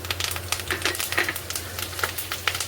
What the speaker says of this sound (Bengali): কারি পাতাটা নিয়ে এসছি গাছের কারি পাতাটা দিয়ে দিলাম